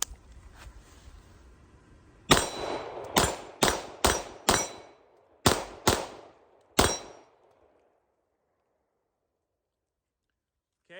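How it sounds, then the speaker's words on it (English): A Springfield Prodigy pistol fires from a 20-round extended magazine: eight sharp, loud reports in two quick bursts with brief pauses, each followed by a short ringing decay, then silence. "So we're going to run through the 20 round extended mag."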